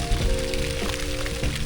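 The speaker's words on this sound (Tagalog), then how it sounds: "Umaambon na yun." Light drizzle pattering steadily by a hotel pool area in El Nido at dusk, a soft continuous patter filling the moment with no voices.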